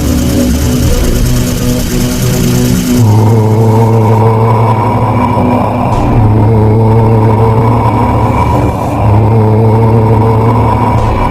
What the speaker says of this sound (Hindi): गुल्ली ने गाड़ी की स्पीड बढ़ाई और तीनों वहां से फरार हो गए।